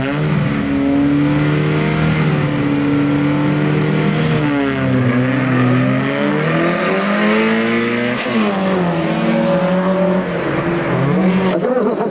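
Cars pulling off the start line at a winter auto show race in Slobodskoy: loud, close engines revving and straining with rising and falling pitch, continuous and overlapping, no talking.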